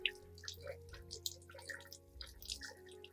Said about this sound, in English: we will rinse the orchid again with clean water